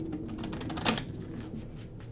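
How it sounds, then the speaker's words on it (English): Tarot cards being shuffled by hand, a dense run of soft papery riffles and clicks that continues steadily at close range with no talking. "I am going to shuffle them 3 more times."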